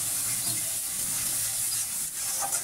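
Spiced fish masala, a kakle fish bhuna with potato and eggplant, stirred and fried in a pan, giving a steady close sizzle and hiss with soft scraping stir strokes throughout, no voices.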